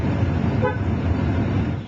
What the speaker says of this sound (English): He then backs up to the pump, honking his horn.